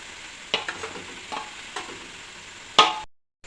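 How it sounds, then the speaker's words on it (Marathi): Fenugreek leaf curry with fresh grated coconut is stirred in a pan, giving a few soft scraping strokes over a light sizzle and ending in one sharper scrape before the sound cuts out. "खोबरं आणि मेथीची भाजी मिक्स करून घ्यायची आहे"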